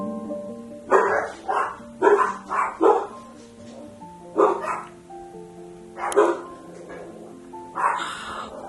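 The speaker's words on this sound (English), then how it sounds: "it's not just Dixon barking at whoever is at the front door" Dogs bark at someone at the front door, a series of sharp, loud, close barks in uneven bursts with brief whimpers between them, while a voice talks underneath.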